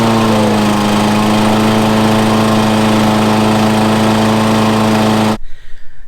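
Exmark Commercial 21 X-series walk-behind lawn mower engine running steadily at a loud, close, even drone after restoration, then cutting off abruptly near the end.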